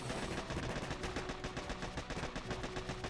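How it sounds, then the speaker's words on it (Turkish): Rapid gunfire from a defense in the mobile game Boom Beach forms a fast, continuous rattle of shots, fairly quiet and dense, without pauses, and no talk is heard over it. "Taramalı tüfek gibi 3 tane 4 tane sıkıyor."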